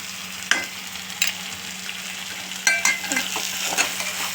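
A spoon stirs eggplant curry with onion, tomato and crushed peanuts in a pan, faint sizzling underneath and several scraping strokes against the pan close by.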